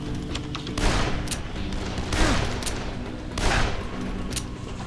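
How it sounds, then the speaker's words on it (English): Shotgun fire in the zombie game Dead Island comes as three spaced booming blasts, each with a short burst of noise, over a busy game background. "Defective shotgun."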